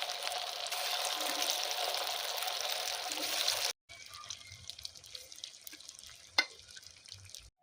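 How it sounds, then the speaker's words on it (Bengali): Cauliflower fritters frying in hot oil give a steady loud sizzle, which cuts out midway to quieter crackling and small clinks nearby. "সবগুলো ভেজে নেব এইভাবে।"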